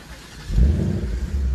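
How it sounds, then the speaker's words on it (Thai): A Ford Mustang V8 5.0 litre engine fires up, rising from a quiet start into a loud, deep mechanical rumble that holds steady nearby for the rest of the moment, with no voices. "นี่คือเมื่อติดเครื่องยนต์นะครับ"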